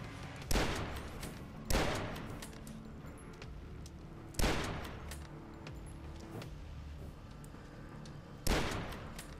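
Turret gunfire in the retro shooter DUSK: four heavy, booming shots land at uneven intervals, each a sharp blast that rings out and fades over a moment, loud and close with no voices.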